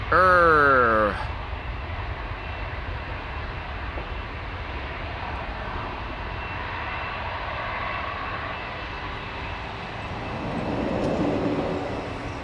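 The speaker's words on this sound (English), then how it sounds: "A220 to Sofia, Bombardier C-Series 300" An Airbus A220 (Bombardier C-Series 300) jet departing Schiphol produces a steady broadband engine roar that swells toward the end, under a voice talking at the start.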